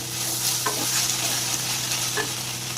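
Hakka noodles being stirred in a hot pan with soy sauce and red chili sauce, a loud steady sizzle with a low hum underneath and a couple of soft scraping tosses, no talking.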